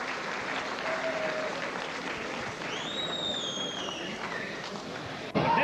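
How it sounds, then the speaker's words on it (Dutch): Spectators at a 1987 Frisian strongman competition applaud steadily from a distance, the clapping blended with crowd murmur and a brief whistle-like tone before a sharp bump at the very end. "Applaus voor Rood."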